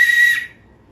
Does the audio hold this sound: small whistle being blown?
yes